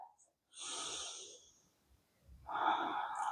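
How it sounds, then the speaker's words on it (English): Slow, close breathing during a calm yoga practice: one long airy breath, a pause, then a second fuller breath near the end, with no talking. "close your eyes, take a round of breath"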